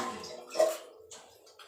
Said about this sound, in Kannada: ಒಂದು ಚಮ್ ನೀರು ಹಾಕ್ಕೊಳ್ತಾ ಇದ್ದೀನಿ ಚಿಕ್ಕ ಚಮ್ಮಲ್ಲಿ